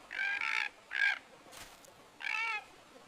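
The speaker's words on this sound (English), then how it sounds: "Dodo, Rhaphis cuculidus." A recreated call of the extinct dodo, a large flightless bird of Mauritius, comes as three separate nasal, honking cries with short pauses between them, clear and fairly close against a quiet background.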